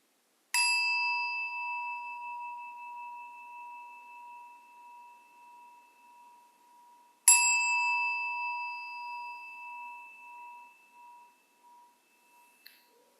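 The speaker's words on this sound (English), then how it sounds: "you might just listen for the bell" A meditation bell rings out clearly twice, each strike a bright sustained tone that slowly decays into silence, the two rings spaced several seconds apart in a quiet room.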